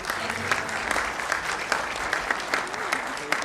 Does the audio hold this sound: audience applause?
yes